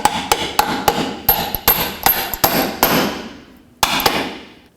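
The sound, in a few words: hammering bolt into strut fork bushing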